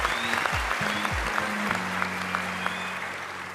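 Audience applause in a TV singing-competition studio, a steady wash of clapping under low sustained instrumental tones, close and moderately loud throughout.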